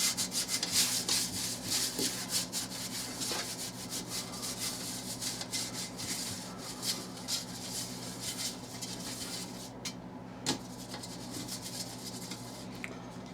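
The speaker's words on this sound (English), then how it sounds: "I like to put a little bit of butter flavored Crisco on the bottom" Butter-flavored Crisco being rubbed over the bottom of a baking pan for venison steak biscuits, giving a steady, close, dry rubbing and smearing sound that continues without talk.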